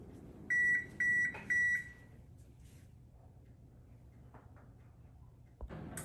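A kitchen timer on an Alexa device beeps in three quick bursts early on while oatmeal cookies bake, followed by a quiet kitchen with faint background hum.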